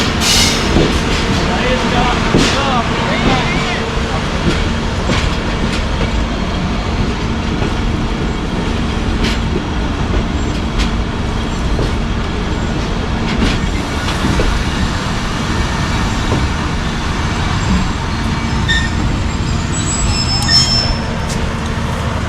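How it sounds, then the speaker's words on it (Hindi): A passenger train in the Thar Desert pulls into its final station with a steady rolling rumble, clicking wheels over rail joints and occasional high wheel squeals, while voices talk over it throughout. "336 डाउन अपने सफ़र के आखिरी स्टेशन पे पहुंच गई है।"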